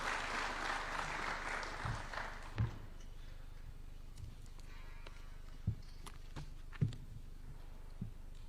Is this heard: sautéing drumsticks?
no